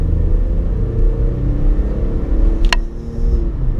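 A 2017 Ford F-150 pickup pulls hard on a road, its engine rumble and road noise loud and steady throughout, with a brief high whine midway.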